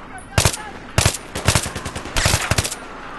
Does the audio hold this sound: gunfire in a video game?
yes